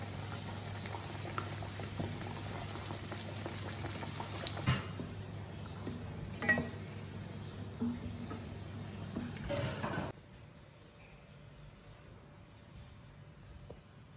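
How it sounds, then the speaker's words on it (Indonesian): Cireng dough fries in hot oil, a steady fizzing sizzle with small pops that drops abruptly to a quiet, softer bubbling near the end. "terus sekarang kita goreng"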